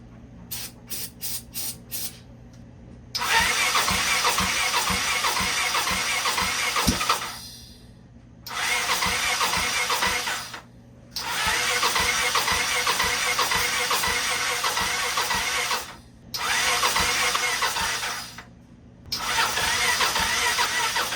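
Kawasaki motorcycle running only on fuel poured into the carburetor bowl: a few short cranking bursts, then loud, harsh engine running that cuts out and restarts several times, the revs strong and close.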